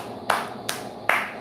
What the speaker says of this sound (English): Let me give a clap.